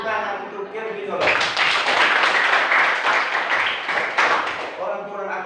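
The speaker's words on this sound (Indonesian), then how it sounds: "Tepuk tangan untuk Kirvin dulu" Bursts of classroom applause for a student, many hands clapping together for about three seconds, with a teacher speaking just before and just after.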